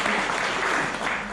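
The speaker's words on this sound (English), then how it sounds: "Give him a big round of applause." Brief, loud round of applause from a seminar audience at a health-and-safety branch talk, dense clapping that fills the whole moment without speech.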